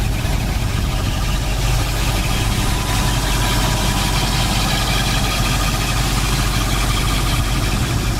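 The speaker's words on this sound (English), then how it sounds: "It's powered by its believed to be 302 two-barrel V8 engine." Dark blue 1972 Mustang convertible with a 302 two-barrel V8 idling up close, a loud, steady, throbbing rumble with a constant low pulse and no voices.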